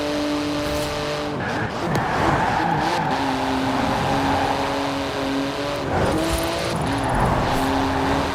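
A racing car in the video game Forza Horizon 4, its engine a loud, sustained high drone that shifts pitch as it accelerates, with tyre squeal and skidding, heard alone without voices.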